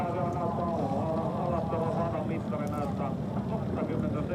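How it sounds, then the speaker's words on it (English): SMP F4 Championship racing cars at Alastaro start up for Race 3, their engines forming a loud, steady, layered drone throughout, with a voice speaking over them. "starting up the engines"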